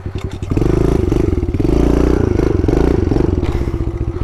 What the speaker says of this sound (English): Little wheelie up the hill.